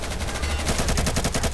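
Automatic gunfire in the video game Insurgency, a rapid, evenly spaced burst of loud close shots rattling without pause for the whole moment.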